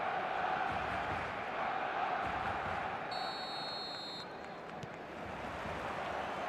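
A stadium crowd in the eFootball video game keeps up a dense, steady roar of noise throughout, with a short high electronic tone partway through.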